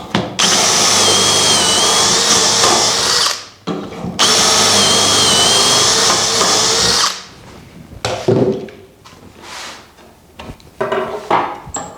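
A power drill bores holes into wooden boards for a bedroom dresser build, running loud and steady in two long bursts separated by a brief pause, then winding down into softer handling clatter.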